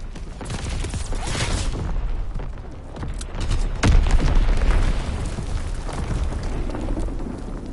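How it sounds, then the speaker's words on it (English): An enemy artillery shell explodes in a video game: a loud, close boom rises out of a rumbling, crackling battle din and then settles back into continuous noise. "Incoming enemy artillery. Get to cover."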